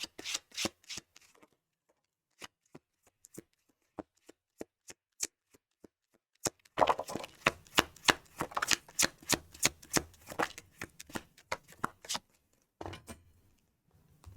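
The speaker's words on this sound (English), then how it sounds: "One more shuffle." Tarot cards are shuffled by hand: sparse, crisp snaps at first, then a dense run of rapid riffling flicks, with no talking.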